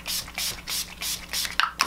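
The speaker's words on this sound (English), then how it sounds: "And then a spray, setting spray," A makeup setting spray bottle gives several short pumped hisses in quick succession, close by, with brief pauses between bursts and sharper clicks near the end.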